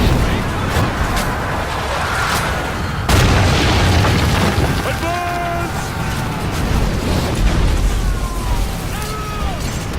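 Booming explosions from the Xbox One game Ryse: Son of Rome, a loud burst at about three seconds over a dense game mix of rumble and music, with rolling impacts continuing.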